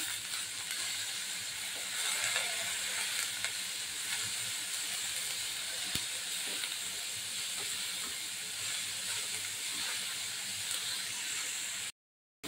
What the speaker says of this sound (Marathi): तो देखील आपण छान परतून घ्यायचा आहे.